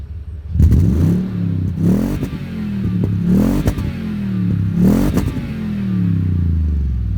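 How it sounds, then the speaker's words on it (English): Toyota Tundra TRD Pro with TRD exhaust blipped four times in quick succession, each rev rising sharply then falling back to a deep idle, loud and close. "So this TRD exhaust, I'm going to go ahead and hit the gas, let you hear that."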